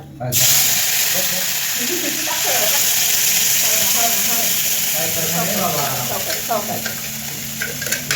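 Masala frying in oil for a paneer curry gives a loud, continuous close sizzle, with scraping stirs throughout and voices faintly underneath.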